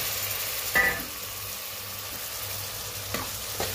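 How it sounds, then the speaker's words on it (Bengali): Vegetables and dried fish stir-frying in oil for a Bangladeshi bean seed, aubergine and potato dish, a steady soft sizzle with a few brief scraping stirs of the pan. "ভালোভাবে, ফ্রাই করে কষিয়ে নিতে হবে তেলের মধ্যে"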